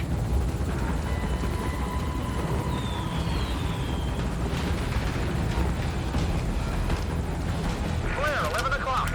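A helicopter in Metal Gear Solid V makes a steady, dense rotor and engine roar under game combat noise, with voices talking over it.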